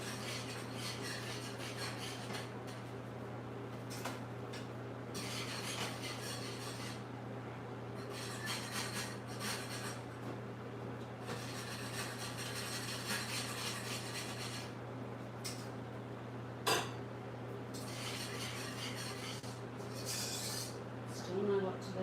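A spoon rasps and scrapes steadily around a pot of boiling mixture on a stove, in repeated rubbing strokes over a constant low hum, quiet and close, with occasional faint talk.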